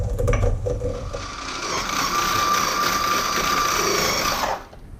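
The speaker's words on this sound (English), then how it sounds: "I brought out the food processor, and there's certainly dust enough coming out of it" A food processor whirs steadily while grinding dried sourdough starter into powder, loud and close, after a rougher start, then winding down near the end; no talking.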